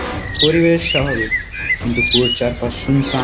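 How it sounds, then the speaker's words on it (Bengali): Morning birds chirp and tweet in bright, repeated calls beside a well in a horror-story soundscape, heard clearly under a narrator's voice. "পাখির কিচিরমিচির"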